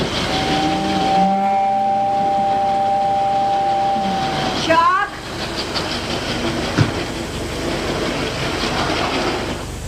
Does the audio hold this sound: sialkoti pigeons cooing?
no